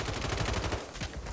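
Rapid bursts of Call of Duty gunfire crackle in a quick, even rhythm, loud and close, with no voices.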